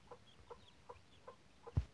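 A mother hen clucks after her chicks hatched overnight, giving five short, evenly spaced clucks at moderate distance, the last one louder and lower.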